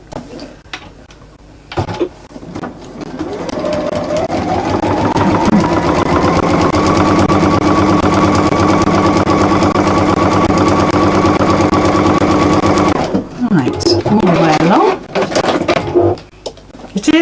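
A sewing machine stitches fabric along a dashed line, starting with a few short bursts and then running in a loud, steady, rapid whir for about nine seconds before slowing into stop-start stitching and handling noises.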